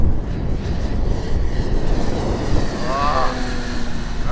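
Sig Yak-18 RC model plane engine at full power, a distant droning buzz over steady outdoor wind noise, with a rising whine near the end as it passes.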